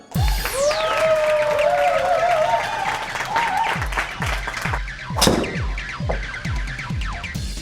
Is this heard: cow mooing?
no